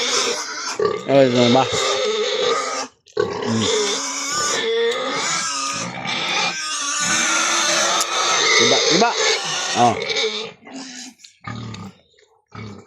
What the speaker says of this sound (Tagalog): Alam yung baboy, maingay.